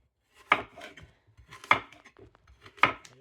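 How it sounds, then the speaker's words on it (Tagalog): Three sharp knife chops through apple on a cutting board, evenly spaced about a second apart, close and crisp with quiet gaps between, while making apple vinegar. "Tapos siwa tayo ng apple."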